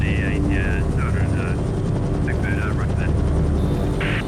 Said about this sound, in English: With an unsuspecting city below them, the helicopters approach the drop zone.